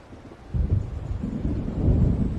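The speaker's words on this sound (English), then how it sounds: "It seems there's a storm coming." Thunder rumbles from an approaching storm in Alan Wake Remastered, a deep, rolling low roar that swells and surges twice over a windy, rain-like hiss, fairly loud and without talk.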